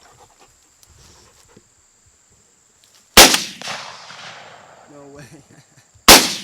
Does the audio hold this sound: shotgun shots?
yes